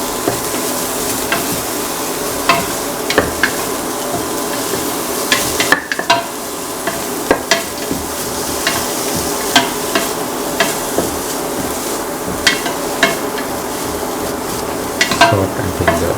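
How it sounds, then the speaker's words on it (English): Garlic and ginger sizzle in a hot pan, with a constant crackle and scattered clicks of a spoon stirring and scraping. No one speaks. "Put in the garlic and the ginger."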